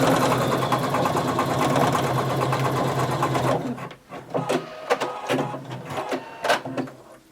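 A sewing machine runs in a steady, loud continuous whir while stitching overlapped elastic ends together, then breaks into short bursts of stitching with brief pauses, including back stitches.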